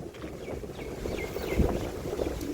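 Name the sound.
wind blowing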